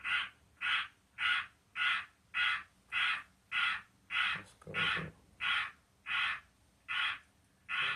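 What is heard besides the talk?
crow cawing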